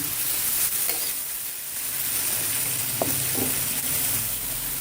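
Spiced vegetables, potato and cauliflower, fry in a pan with a loud, continuous sizzle and hiss, broken by a few soft clinks of a spoon against the pan.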